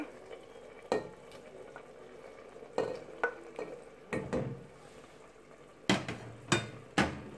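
Roasted, peeled peppers get stirred into a simmering sauce in a pan, with scattered scraping and knocking strikes of the utensil over a low, steady sizzle, nearby with no talking.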